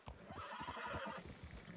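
A horse in Red Dead Redemption 2 neighs in a drawn-out whinny over soft hoof clip-clops, close and clear with no voices.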